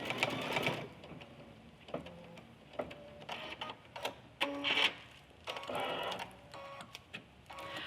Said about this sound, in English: the next step is going to stitch 4 little placement marks so that we know where to put the arms and the legs